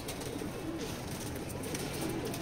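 A checker hen pigeon, racer stock from a loft, coos softly among other birds nearby, low continuous murmuring over a busy background with a faint voice.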